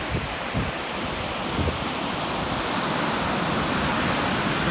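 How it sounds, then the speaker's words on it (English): Waves washing onto a beach on the Strait of Juan de Fuca at the southern tip of Vancouver Island on an overcast, chilly day; a steady, loud broadband roar of surf, continuous and without speech. "let's check out the beach. It really is a nice beach."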